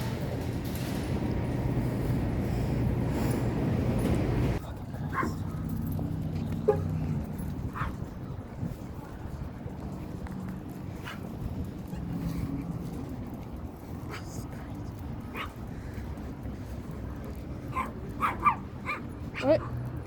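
Several dogs in a Walmart store yip, whimper and let out short barks, sporadic and fairly faint beneath a steady store background, with people talking nearby.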